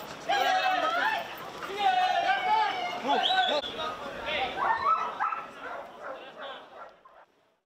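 Dogs at a dog show that includes German Shepherds and other foreign breeds bark and yelp in excited overlapping bursts, loud and close, with whines mixed in, fading out at the end.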